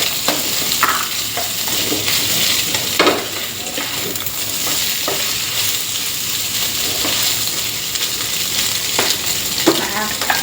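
Eggs stir-fried with preserved radish sizzle steadily in a hot pan, with a continuous loud frying hiss broken by scraping stirs of the spatula, close and with no talking.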